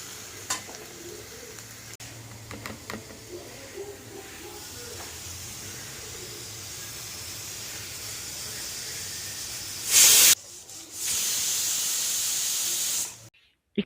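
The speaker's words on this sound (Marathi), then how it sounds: "इकडे कुकरला मीडियम फ्लेमवर 3 शिट्ट्या काढून घेतल्या" Steam hisses steadily from a pressure cooker on a medium flame, with faint kitchen clatter early on, then loud bright bursts of whistling release near the end, no voices.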